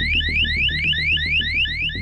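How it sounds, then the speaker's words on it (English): An electronic water-sensor alarm in a child's turtle-shaped product sounds a steady train of rapid rising chirps, each sweep repeating about every quarter second, loud and alone with a low hum beneath. "it turns on a microprocessor, which turns on a transmitter, which transmits a signal and sets off an alarm"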